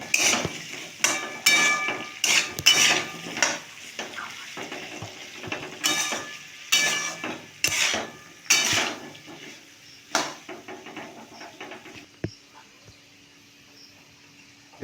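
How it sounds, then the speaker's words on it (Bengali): Potatoes with onion frying over medium-high flame while a metal spatula scrapes and clanks against the pan in irregular bursts, a faint sizzle underneath and brief pauses between stirs. "মিডিয়াম টু হাই ফ্লেমে আমি আলুটাকে ভেজে নিচ্ছি।"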